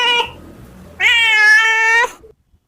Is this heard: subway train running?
no